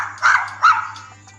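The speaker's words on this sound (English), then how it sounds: "being startled by a neighbor's barking dog" A dog barks twice in quick succession, sharp and fairly close, then trails off into a faint whimpering yip, with a low steady hum underneath.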